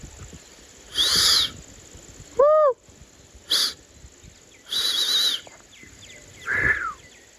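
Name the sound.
peacock calling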